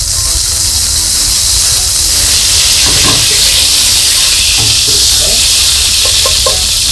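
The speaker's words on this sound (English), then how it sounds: "So when most of the skin is cooked to golden brown, flip the cooked meat on the other side." Chicken pieces frying skin-side down in a hot pan give off a loud, steady sizzle and hiss that fills the whole stretch, with a few faint clinks near the end.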